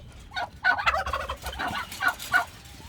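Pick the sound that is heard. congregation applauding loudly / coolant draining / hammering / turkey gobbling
turkey gobbling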